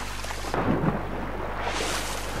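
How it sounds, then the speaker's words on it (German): Steady rain pours in Assassin's Creed Rogue, with a deep thunder rumble swelling near the start and rolling on beneath the constant hiss of the downpour. "Super, Regen wieder."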